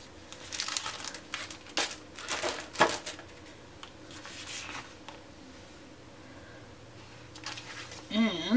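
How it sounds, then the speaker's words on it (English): Sheets of wax paper are handled at a crafting table, making crinkling and rustling bursts of varying loudness with brief pauses between them, close to the listener. "as I reach for some wax paper"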